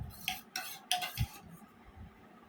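A spoon clinks and taps against a bowl a few times while scooping yogurt and coffee powder. The sounds are close and sharp, with quiet gaps between them.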